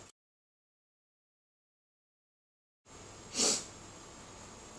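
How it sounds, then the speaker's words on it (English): A person gives a single short sniff close to the microphone after a stretch of silence, a quick breathy burst against faint room noise. "I realize I sniff a lot in my videos"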